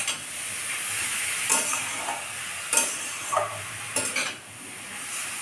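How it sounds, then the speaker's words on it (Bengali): Grated carrots fry in a pan for gajar halwa, a soft, steady sizzle with a handful of sharp spatula scrapes and clinks against the metal, close by. "গাজরগুলোকে খুব ভালোভাবে ভেজে নেব।"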